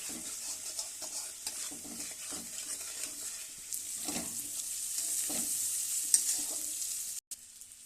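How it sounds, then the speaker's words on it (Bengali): Spices, cauliflower and potato sizzle in a pan with turmeric, salt and Kashmiri chilli powder while a spatula stirs in repeated scrapes about once a second, with a brief clatter near the end. "মশলা সবজি সব ভাজা হয়ে গেছে"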